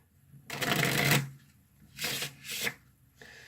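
Cards are riffled and shuffled in three quick bursts, close and crisp, with short pauses between.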